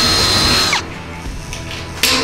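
Power drill enlarging a bolt hole in a used steel drum for a smoker barrel, a loud high-pitched whine for under a second, then quieter clatter and another brief burst at the end.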